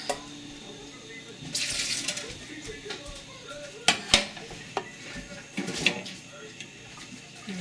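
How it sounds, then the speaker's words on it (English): Water is poured out of a double boiler pot used for melting beeswax, splashing and running amid clinks and clatters of metal pots and utensils, fairly close and moderately loud. "pour a little of this water out."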